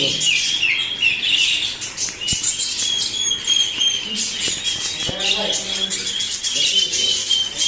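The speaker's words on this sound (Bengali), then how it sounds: "এখানে বিভিন্ন কোয়ালিটির পাখি রয়েছে" Many caged birds chirp and tweet together at a bird and rabbit shop in a village market in Cumilla, Bangladesh. The calls are busy, high and continuous, with occasional wing flutters and low background murmur.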